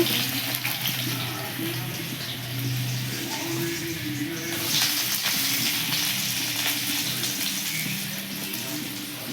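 Onion drops into a hot pan for a jute leaf curry, setting off a steady hiss and sizzle that runs continuously at moderate volume with a faint low hum beneath.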